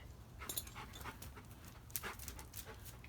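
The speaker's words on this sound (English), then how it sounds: "My brother-in-law's dog just came down here" A dog pants quickly and whimpers close by at a lawn restoration site, with short breathy bursts and faint whines.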